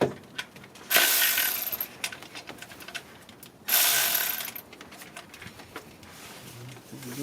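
A ratchet wrench loosens a bolt on a 2011 Honda Odyssey during spark plug replacement: two bursts of quick, close clicking, with faint handling noises between.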